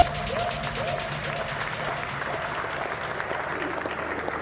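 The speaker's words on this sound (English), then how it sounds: "once again, a round of applause for our Super Senator." Audience applause at a democracy and human rights festival in Nairobi, a steady wash of clapping with some cheering voices mixed in, moderately loud and continuous throughout.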